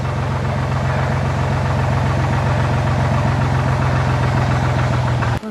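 A tractor engine in Munich putters slowly along behind people on foot heading up toward a castle. Its steady, low, chugging rumble holds close and unbroken for several seconds, then cuts off abruptly.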